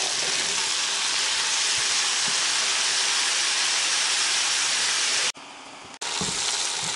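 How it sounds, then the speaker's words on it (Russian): Loud, dense sizzling of frozen green beans frying in a hot pan, continuous hiss with a brief dip near the end before resuming. "И немного обжарим фасоль. Знаете, замороженная."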